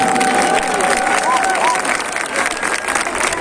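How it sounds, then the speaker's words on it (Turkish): Crowd applause at a Hacıbektaş commemoration event, dense loud clapping from a large outdoor gathering, with a faint whistle-like tone and some crowd voices mixed in. "Ona göre alkışlarken kendinizi esirgemeyin."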